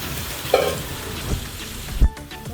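Rice sizzling and crackling as it is added to a pot of chicken biryani, a loud continuous fry with a couple of sharp clinks of a spoon against the pot, close up.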